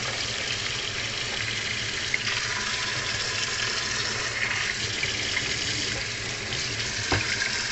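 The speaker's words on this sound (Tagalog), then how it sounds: "paliguan siya agad ng tubig." Tap water runs steadily over freshly boiled eggs in a kitchen sink, a continuous hissing splash with a light clink near the end and no talking.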